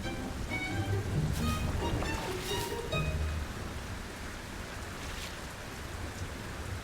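Rain falls steadily in a Singapore city, a dense hiss of drops spattering on hard surfaces, with a few brief tonal sounds over it early on before the downpour continues alone.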